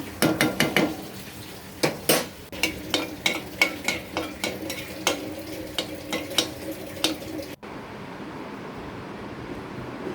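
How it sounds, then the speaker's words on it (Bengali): Small shrimp fritters frying in a pan, a close sizzle punctuated by a quick series of sharp utensil clinks and taps against the pan, then quieter frying alone at the end. "তো বাকি যে বড়াগুলো আছে ওগুলো আমি ভেজে নিচ্ছি।"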